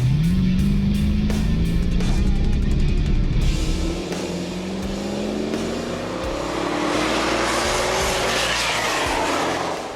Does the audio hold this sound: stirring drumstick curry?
no